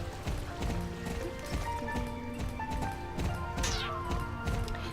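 Rhythmic hoofbeats of a horse in the video game Star Stable Online clip-clop steadily at a trot, close and clear, with a brief whinny partway through.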